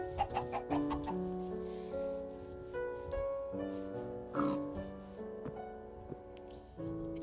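Chickens in the video game Minecraft cluck in short, scattered bursts over a sustained tonal background, moderately quiet, with no talking.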